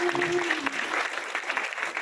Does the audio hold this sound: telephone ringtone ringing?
no